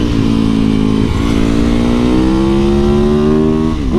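A lightweight motorcycle is ridden close by, its engine revving and climbing through the gears in steady rising sweeps with a brief dip between shifts, loud with no talk.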